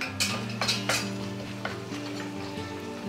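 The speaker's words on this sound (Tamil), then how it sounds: "ஃபஸ்ட்டு சோம்பு போட்டு பொரியட்டும்" Fennel seeds with bay leaves, cinnamon, cardamom and cloves crackle in hot oil in a pan, a steady sizzle broken by several sharp spoon-on-pan clinks, close and without talk.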